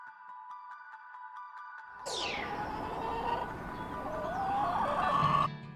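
Backyard family chickens cluck and murmur steadily at moderate distance, with a rising, rooster-like call toward the end, over a faint background tone and no talking.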